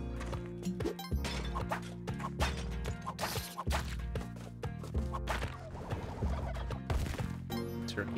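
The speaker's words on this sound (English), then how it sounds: "Turkeys?" Turkeys in the video game Spelunky 2 gobble repeatedly in quick bursts, mixed with sharp game hit sounds and a busy musical backing throughout.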